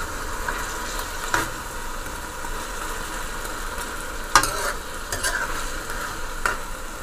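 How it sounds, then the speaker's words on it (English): Beef and eggplant fry in a pan with a steady sizzle, and a few louder clatters of stirring break through at intervals. "I cut it up and I take the skin out, so let it fry down."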